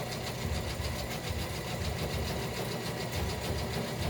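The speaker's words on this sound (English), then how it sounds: "I'll try to sew it really fast." A sewing machine stitches a book page insert in one fast, steady run, its motor whirring close by and alone.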